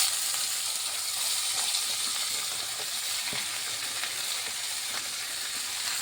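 Red chusa vegetables sizzle in hot oil with partly fried potatoes in a pan, a dense, even hiss that stays bright and steady, with a few faint stirring scrapes and no talk.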